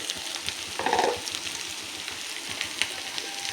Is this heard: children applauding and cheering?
no